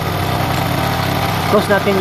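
A motorcycle engine idles steadily up close while its carburetor is being tuned, with a brief burst of other noise near the end.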